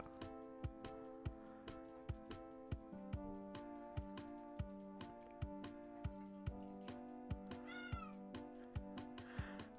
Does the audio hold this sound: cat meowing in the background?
yes